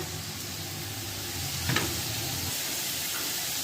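Chopped onion with salt and ginger-garlic paste sizzles steadily in a wok, a dense continuous hiss with a brief louder stir or spatter midway, close and loud with no talk.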